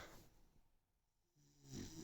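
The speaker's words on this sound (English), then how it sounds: "she's doing a lot of snoring" A dog snores softly, with a faint rasping breath at the start and a louder snoring inhale at the end, quiet and close with no talk.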